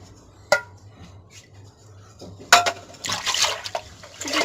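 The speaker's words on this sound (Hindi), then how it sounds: "सबसे पहले हम बेसन को लस्सी में मिक्स करेंगे अच्छी तरह।" Gram flour is whisked into buttermilk in a bowl. A single splashy knock is followed by a pause, then a burst of wet, sloshing whisking strokes that continues unevenly, close by.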